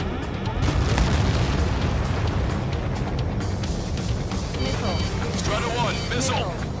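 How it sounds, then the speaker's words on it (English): A bomb dropped in the Ace Combat 7 video game goes off as a heavy, rumbling boom that lingers, with radio-style chatter and jet and game sounds layered over it. "Target confirmed. Dropping the bomb now."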